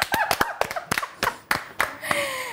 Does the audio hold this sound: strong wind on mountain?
no